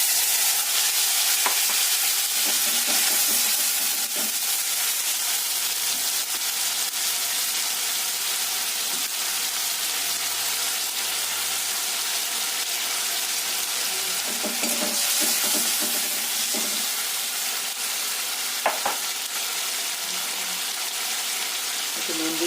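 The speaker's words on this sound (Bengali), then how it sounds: "একটু জিরে ফোড়ন শুকনো লঙ্কা ফোড়ন তেজপাতা সেটাই আমাদের দিচ্ছি" Cumin seeds, dried red chilli and bay leaf sizzle in hot oil, a continuous bright crackling hiss with occasional stirring scrapes, while a voice talks now and then.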